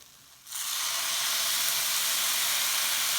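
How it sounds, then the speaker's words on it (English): Lotus root is sautéed with sake and sugar, and a sudden loud hiss bursts up as the liquid hits the hot pan, then holds as a dense, steady sizzle, close and with no talking. "And you saute until the sake and the sugars are all mixed and evaporate"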